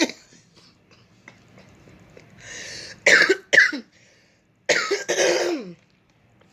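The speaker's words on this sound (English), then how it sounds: "I had to clear my throat after laughing after that" A few sharp throat clearings and coughs close by, separated by brief quiet, with faint breathy vocal sounds between them.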